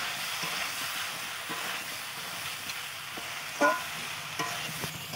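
Chicken curry with fried cauliflower being stirred and sautéed in a pan, a steady low sizzle of oil with soft scraping stir strokes and a brief louder clink near the end, no talk.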